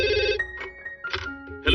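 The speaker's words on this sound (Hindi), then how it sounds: "इस फोन को भी अभी बजना था।" A telephone bell rings in short bursts in a cartoon scene, repeating brightly over a low background hum with voices faintly present.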